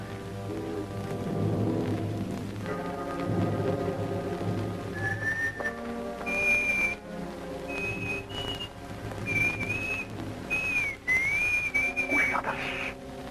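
Someone whistles a wavering, sliding tune in the dark; thin, clear notes begin about five seconds in and rise and fall over a dense, steady background of music and rain-like noise.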